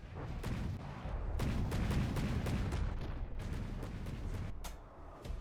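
Naval battle gunfire in From the Depths as decoys get sniped, a dense, continuous rumble of distant cannon shots with sharp cracks rising above the din.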